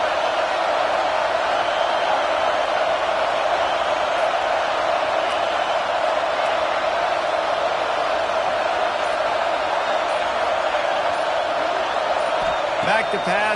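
Steady, dense roar of a stadium crowd in an American football video game, a constant loud wash of noise that never lets up, with an announcer talking over it.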